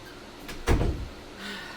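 A door thuds shut once indoors, a soft muffled bump followed by a faint rattle, against quiet room noise.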